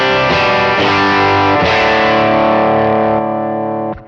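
Electric guitar played through a King of Tone overdrive pedal, first a few clean strummed chords, then sustained driven chords that ring out loud and alone before being cut off.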